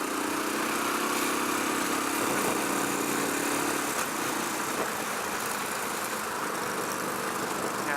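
A Royal Enfield Classic 500 single-cylinder motorcycle drones steadily under load as it slowly gathers speed on the road, with heavy wind rush and a continuous broadband engine roar filling the whole stretch.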